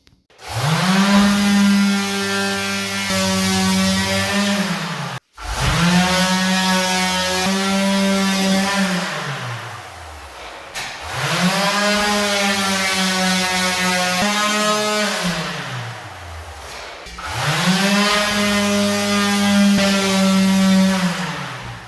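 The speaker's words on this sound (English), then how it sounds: "carry on doing some sanding." A power sander whirs steadily in long bursts on a filled ceiling, rising and falling in pitch, with brief pauses between passes; close and loud.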